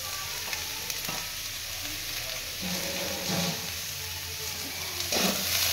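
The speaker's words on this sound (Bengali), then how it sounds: "কষতে থাকবো এতক্ষণ।" Okra and potato curry with chopped tomato and salt sizzles and fries in a pan, a continuous close sizzle with occasional stirring scrapes and louder bursts as the mixture is moved.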